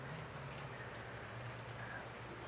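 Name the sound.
light rain sprinkles pattering on a table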